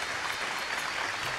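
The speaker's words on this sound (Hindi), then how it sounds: "जोरदार ताली बजा के इनके अपने सीट पर भेजेंगे।" Audience clapping at a Bhojpuri music competition show, a steady dense wash of applause filling the short moment with no voices over it.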